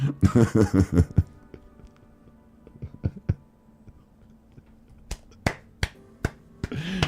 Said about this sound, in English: Oh, I clapped with one hand there.